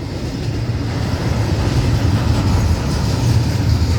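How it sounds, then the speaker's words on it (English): An FECR freight train with container well cars rolls past near a bridge curve in St. Augustine, Florida, a loud, continuous rumbling roar of wheels and cars slowing down, steady and close with no voices. "you can hear the train slowing down as it reaches the big curve at the bridge"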